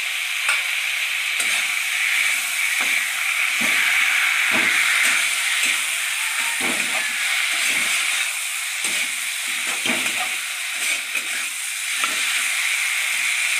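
Tomato and spice paste frying in hot oil in a pan, a loud continuous sizzle and hiss with occasional stirring scrapes breaking through, close up and steady throughout.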